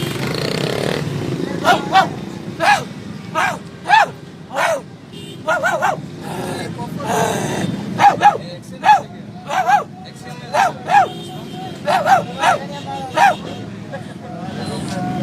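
A man imitates a barking dog, letting out a dozen or so sharp bark-like yelps in irregular bursts over a busy crowd murmur and background chatter.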